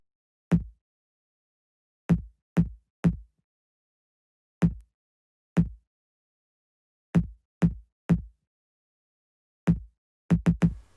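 Deep, punchy kick drums in a hip-hop beat thump alone in an irregular pattern, ending in a quick triple hit, each a short low boom with a fast decay.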